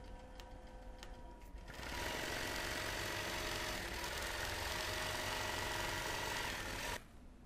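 A computerized quilting machine stitches a quilt with a steady, loud mechanical whir that starts up after a quieter motor hum, runs evenly for several seconds, then drops off at the end.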